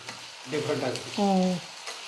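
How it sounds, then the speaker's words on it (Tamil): Potato and carrot pieces fry and sizzle in oil for a mixed vegetable dish while being stirred, with a louder scraping, squealing stir in the middle. "இப்போ இந்த காய் வந்து எண்ணெயில் சேர்த்துக்கலாம்"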